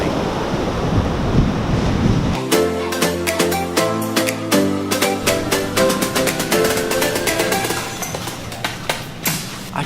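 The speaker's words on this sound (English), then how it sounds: "the waves will be at the same height as the ones coming over there to your right" Pacific Ocean surf breaks on the beach at Monterrico, Guatemala, a loud wash of waves rushing in, then a stretch of rapid clicks and rattles over the roar.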